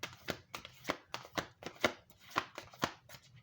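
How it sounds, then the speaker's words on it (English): A deck of oracle cards being shuffled by hand, a quick run of soft flicking riffles and taps in an irregular rhythm, close and quiet. "And this one does need a little extra work just to shuffle"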